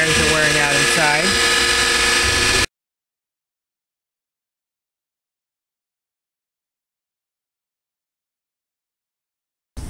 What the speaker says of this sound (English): as the motor starts to go bad, you may hear a noise like this